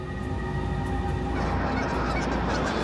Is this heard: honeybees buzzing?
no